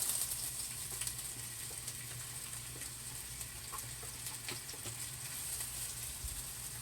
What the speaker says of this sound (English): So let's throw these vegetables in here and get them sauteed a little bit.